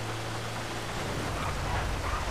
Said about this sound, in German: Okay, es regnet ein wenig